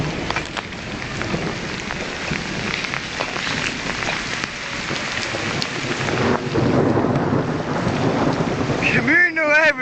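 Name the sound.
thunderstorm with rain and thunder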